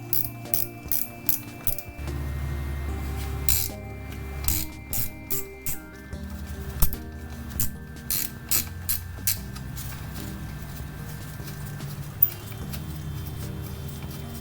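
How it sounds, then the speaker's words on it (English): A ratcheting wrench works loose the smog pump bolts on a 1987 Corvette, giving rapid, close clicking bursts in short repeated runs with brief pauses between strokes. "I really like ratcheting wrenches."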